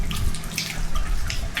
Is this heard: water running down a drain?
yes